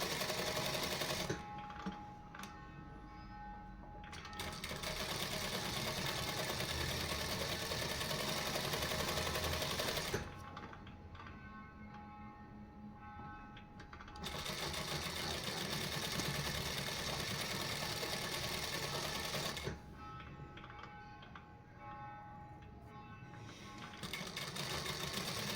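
A sewing machine stitches a waistband in long runs of steady, fast mechanical whirring. Each run lasts several seconds, and short quiet pauses fall between them.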